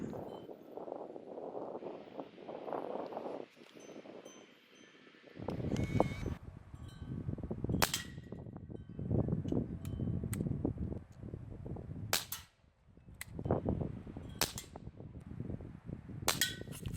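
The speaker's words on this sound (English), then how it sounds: "These daisy pellets were shooting about 200 feet per second" A Barra Schofield No.3 U.S. Army replica CO2 air revolver shooting Daisy pellets outdoors, several sharp pops spaced a few seconds apart over wind noise and handling sounds.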